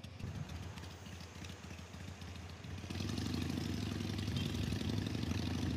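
A Rebel motorcycle rides past on a New York City street, heard over a rider's own Harley engine as a rumble that swells and stays louder from partway through.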